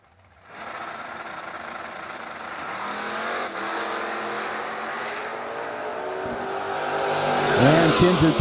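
Drag racing cars, one of them a Camaro, roar down the strip at a bracket nationals event, a loud sustained engine wail that builds steadily, with a higher close-up engine tone rising near the end.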